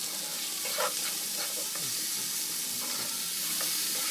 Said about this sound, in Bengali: এদিকে মুরগির মাংসগুলো আমি ভালোভাবে নেড়ে ভেজে নিচ্ছি, উল্টায় দিচ্ছি।